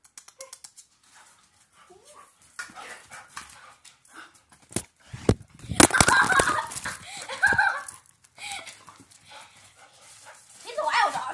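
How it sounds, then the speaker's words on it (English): A lively dog dashes around indoors and thuds into a wall, giving a couple of sharp knocks in the middle between scrabbling movements, while people talk. "He's a wild dog. He just ran into the wall."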